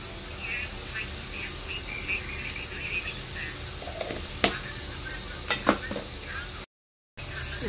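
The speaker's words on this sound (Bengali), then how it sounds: "আলুটা ভাজা ভাজা হয়েছে" Potatoes frying in hot oil in a home kitchen, a continuous moderate sizzle with a few utensil clicks and scrapes, cut by a short silent gap near the end.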